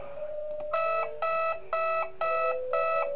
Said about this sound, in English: so the alarm works on Yoshi too for the casino